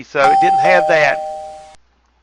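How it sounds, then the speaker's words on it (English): Doorbell-style alert chime from NinjaTrader trading software rings out as a steady tone lasting over a second, partly under a man's speech before cutting off. "I don't know if you can hear that doorbell going off"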